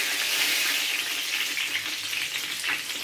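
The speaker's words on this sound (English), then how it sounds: "I'm just frying up my seasoning and then putting my fish there in that right now." Seasoning and fish fry in a pan, Jamaican style, with a steady loud sizzle and crackle running throughout and no speech.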